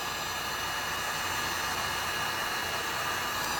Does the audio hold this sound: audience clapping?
no